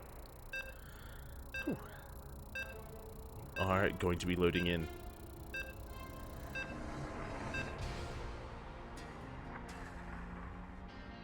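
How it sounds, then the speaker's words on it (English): Short repeated electronic beeps as players load into a StarCraft 2 match in a ZvP game, sounding at a steady spaced rhythm under a caster talking, with a brief louder burst of game sound in the middle. "You can hear the beeps. So we're loading into our next game."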